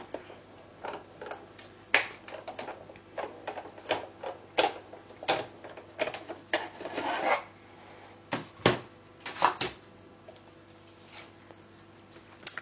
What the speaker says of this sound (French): je viens positionner ici en sandwich ma plaque d'impression, ma plaque d'embossage, et je vais actionner la machine